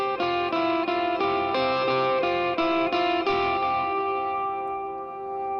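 Electric guitar riff from a song, bright repeated picked notes drenched in echo, chorus and reverb, ringing in an even pulse before trailing off into a decaying tail.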